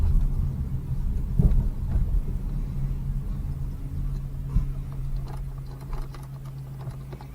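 A car's engine and tires rumble steadily at low pitch while driving slowly toward a house, with a few small clicks and knocks from the cabin and no talk.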